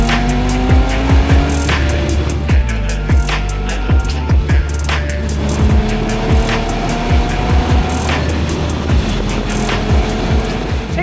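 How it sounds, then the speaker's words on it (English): A turbocharged car engine revs hard while driving, loud and close, with repeated rising and falling throttle sweeps and a steady roar, with no voices. "The way this thing revs, it doesn't rev like a conventional turbo."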